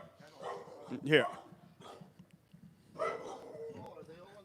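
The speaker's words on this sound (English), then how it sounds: "do you see any dogs here? I hear them barking here." Dogs bark in a couple of short bursts at moderate distance, with a person talking nearby.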